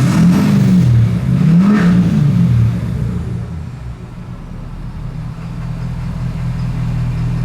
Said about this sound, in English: Now it's revving just fine